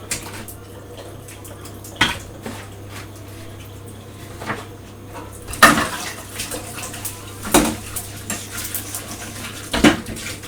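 Dishes and pans clattering during washing up in a home kitchen on a baking stream, with sharp scattered clanks and knocks over a steady low hum and running water.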